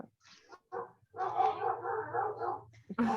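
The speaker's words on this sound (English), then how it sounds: "Your dogs want to participate too." Dogs bark and yip in a few short bursts, then give a longer, wavering vocalization, fairly close and moderately loud, with no talking over them.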